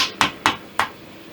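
Three sharp metallic hammer taps strike the brass tip of a flintlock ramrod for a Kibler Colonial kit, evenly spaced and close, with bright ringing attacks and quiet gaps between them.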